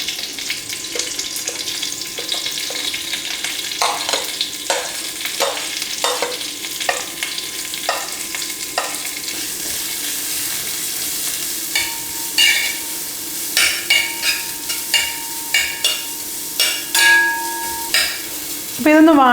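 Chopped onions sauté in hot oil in a pan for Kerala-style upma, with a steady sizzle and repeated scraping strokes of a spoon that grow sharper and closer toward the end.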